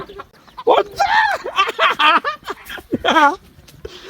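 A rooster clucks and squawks loudly at close range in a rapid series of agitated calls, with brief pauses between bursts.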